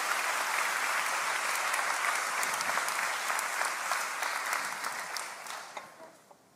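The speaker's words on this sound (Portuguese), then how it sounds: "Aplauda o Senhor por essa Trindade maravilhosa." A church congregation applauding during a sermon, dense sustained clapping that stays fairly even before thinning out and fading into a few scattered claps at the end.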